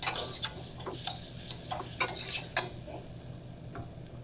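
Mushrooms sautéing in a pan for rice pilaf, a faint low sizzle punctuated by regular light taps and clicks of a utensil stirring, fairly close and without talk.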